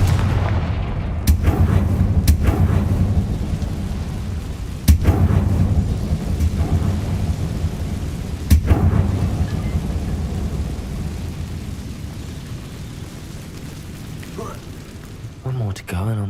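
Confringo spell blasts in the Hogwarts Legacy video game burst out as sharp booming cracks over a steady rumbling game backdrop, with two distinct heavy impacts.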